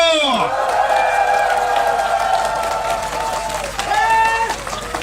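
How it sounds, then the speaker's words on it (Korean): A crowd at a political campaign rally claps and cheers under amplified singing or voices. The clapping is loud and steady, with whoops scattered through it. "가능하다고 생각하신 분들만 박수와 환호 주십시오."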